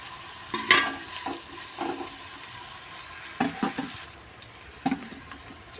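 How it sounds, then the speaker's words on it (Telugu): Onions with cardamom and cloves frying in a pan, a soft steady sizzle with scattered clinks and scrapes of a spoon stirring, close and fairly quiet with no voices. "ఉల్లిగడ్డ బాగా ఎర్రగా అయ్యేంత వరకు మరిగించాలి."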